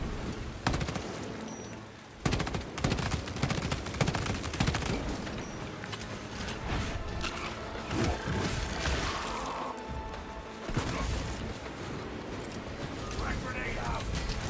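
Weapons fire in a volley during a Space Marine video game battle, dense crackling bursts of gunfire and impacts that run almost without a break under the game's noise.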